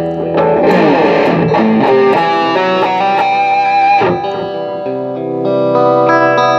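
Distorted tone from a repaired EVH electric guitar through a Rock You Die overdrive, with sustained chords and notes played loud and close.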